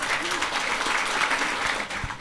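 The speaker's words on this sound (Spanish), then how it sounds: "Un aplauso a nuestra amiga." An audience at a live comedy show in a theatre bar in Palermo applauds steadily, with voices and cheering mixed into the dense clapping throughout.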